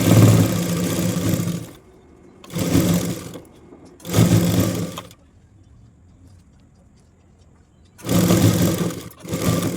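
Sewing machine stitching a nightie alteration, running in three loud bursts of steady whirring separated by short pauses, then a quiet stretch before two final runs, with no talk.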